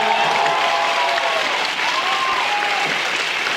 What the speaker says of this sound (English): Can we get an applause for Tomar's library, by the way